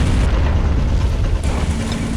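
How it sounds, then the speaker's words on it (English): A tank shell explodes against a gate in Army Men of War, a loud, continuous rumbling blast that fills the whole moment with dense low roar. "Let's see if we can get a shot off right on the gate, see if we can blow it up"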